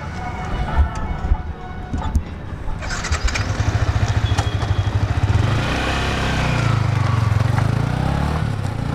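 A Yamaha R15 V3 motorcycle engine starts and revs, then pulls away as the rider sets off, the engine note rising and steadying. Voices talk over it.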